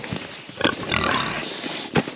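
Pigs on a farm give short oinks and grunts in a few quick bursts, close by and fairly quiet, with some shuffling noise between them.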